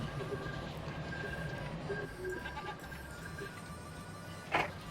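Sheep bleating faintly in a video game, a few thin repeated calls over a steady low background hum, with one sharper sound near the end.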